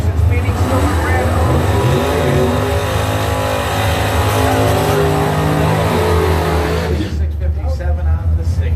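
Drag racing cars, a Phoenix and a Mustang, roar under full acceleration with a loud, continuous engine howl that holds for most of the run, then drops away sharply near the end. An announcer may be talking over the engine noise.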